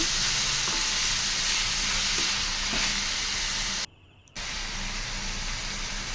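Ivy gourd fry being stirred with salt in a pan, a steady close sizzle and scraping hiss running throughout, briefly cutting out for a moment before resuming.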